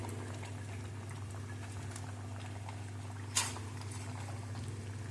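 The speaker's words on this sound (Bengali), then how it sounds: "আমার মাছের ঝোলটা ফুটে উঠেছে।" Fish curry broth simmers in a pot, a steady bubbling and popping close by at low to moderate volume, with a low hum underneath and one brief sharp clink near the middle.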